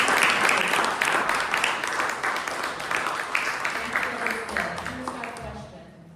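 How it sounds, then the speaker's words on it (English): An audience applauds after a presentation with dense, sustained clapping that holds steady for several seconds and then tapers off at the end. "Round of applause."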